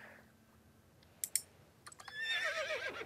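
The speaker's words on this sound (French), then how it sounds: "On peut monter sur le cheval en cabrant." A horse rears and neighs in a video game, with a few sharp clicks followed by a rising, wavering whinny that carries to the end, fairly clear over a quiet background.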